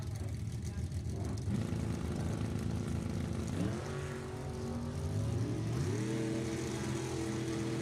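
A Corvette and a Cavalier drag racing at an NHRA Summit Racing Series E.T. Finals event, heard as a continuous loud engine roar with rising pitch sweeps as the cars shift through gears down the strip.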